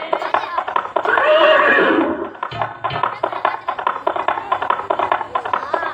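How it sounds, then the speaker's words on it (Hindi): Horses neighing with hooves clip-clopping, in a forest setting: one loud, drawn-out whinny rises early, and sharp hoof taps follow in uneven bursts. "जब घोड़ों की आवाज प्रहलाद जी के कान में पड़ती है"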